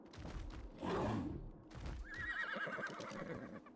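A horse whinnies loudly with a rising, wavering call, preceded by snorting and rustling movement, with muffled thumps like hooves, in ARK: Survival Ascended.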